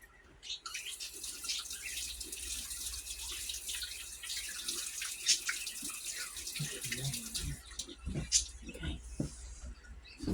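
Tap water runs into a sink as hands are washed beneath it, a soft steady stream with faint splashes and small clatters near the end, no talking.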